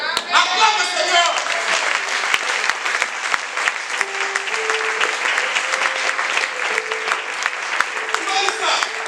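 A church congregation applauds during a French-language worship service, with dense, steady clapping filling the whole stretch and voices and tonal sounds mixed in underneath.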